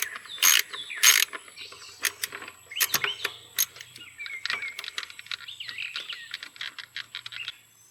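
A ratchet working on bolts of a Toyota Prius EGR pipe gives close, rapid clicking runs in several bursts, with a few metallic knocks and no talk.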